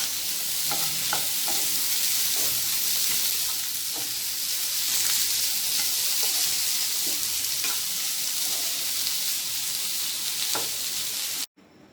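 Potato vegetable being stirred in a hot pan after salt and sugar go in: a loud, dense, continuous sizzle with faint scraping strokes of the spoon, then a sudden cut to near silence at the very end.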